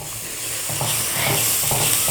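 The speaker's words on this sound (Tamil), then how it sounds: "ஓரளவுக்கு மீடியமான ஃப்ளேமில் நல்லா வணக்கிட்டே இருக்கணும்" Home-ground chilli powder masala sautéed on a medium flame for thokku, a loud close sizzle with rhythmic stirring scrapes repeating about every half second.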